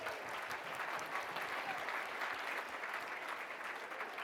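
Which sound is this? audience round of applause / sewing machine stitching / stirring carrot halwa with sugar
audience round of applause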